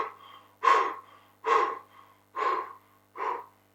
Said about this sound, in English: what I do right after I come up from a lap is heavy breathing through the mouth.